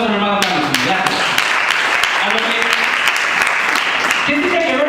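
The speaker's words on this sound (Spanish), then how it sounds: "Un aplauso, hermano." A church congregation applauds steadily after a sermon by a preacher, the clapping loud and continuous throughout, with a voice speaking over it.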